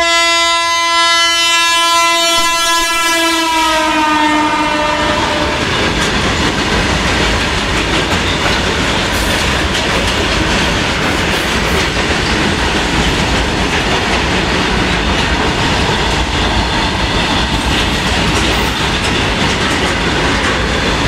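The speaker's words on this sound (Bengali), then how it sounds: "এই দেখো ট্রেন আসছে" A long freight train at a closed rail crossing sounds a loud, sustained horn for several seconds, then roars past with a continuous heavy rumble and clatter of wagons that stays loud and close throughout.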